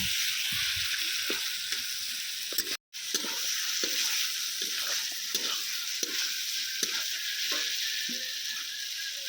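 Mutton fries in a wok while being stirred, with a steady bright sizzle and soft repeated scraping strokes of the spatula, close and even, no voices.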